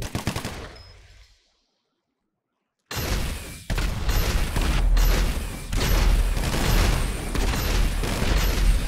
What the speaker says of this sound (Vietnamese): Mình lấy bazooka đi.